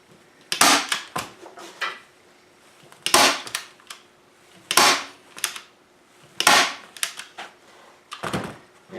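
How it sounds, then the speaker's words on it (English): A staple gun fires staples through carpet onto a 14 ft jon boat, giving five sharp close snaps spaced about every one and a half seconds, each followed by brief rustling and handling noise. "I'm going to staple this down"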